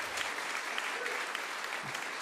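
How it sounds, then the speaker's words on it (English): Audience applause at a WoodSongs live broadcast concert after a US Navy Band Great Lakes jazz combo set, steady dense clapping filling the room without a break. "Give the WoodSongs crew a big round of applause."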